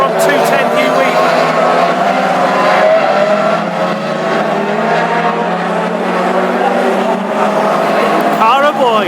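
Classic hot rod race cars roar around the Northampton oval in a loud, continuous blend of engines, with several cars passing and revving while a race commentator talks over the noise.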